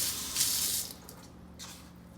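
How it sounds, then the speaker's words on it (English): A kitchen sink faucet runs for under a second with a bright rushing splash, then cuts off, leaving faint drips and quiet room noise with a brief later burst. "I like to come over to my sink because I do like to also add a little bit of water as I'm going"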